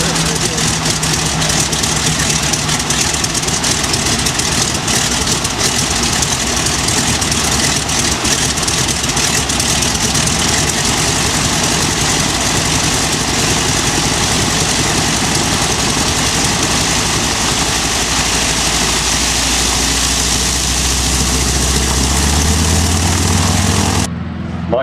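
North American Harvard aircraft engine runs at a display at Point Cook, a loud, sustained radial-engine drone that stays constant and close for the whole stretch, with a voice audible over it.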